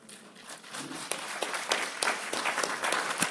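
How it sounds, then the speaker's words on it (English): Applause from a room of listeners at a university keynote talk and Q&A, a dense patter of many clapping hands that builds slightly and holds steady, moderately loud, without speech. "Jesse even got a round of applause"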